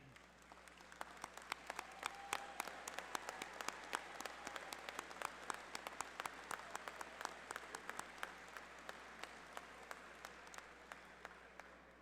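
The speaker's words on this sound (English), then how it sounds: "Would all our award recipients please stand for a round of applause?" Audience applause for award recipients standing at a college convocation ceremony, a steady, sustained wash of many hands clapping at moderate distance, dense and even throughout with a low hum beneath.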